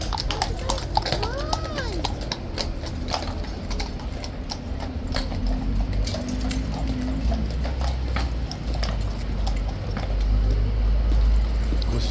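Horses of the King's Guard clip-clop in a steady, close hoofbeat rhythm at Horse Guards, with a large crowd murmuring and people talking around them.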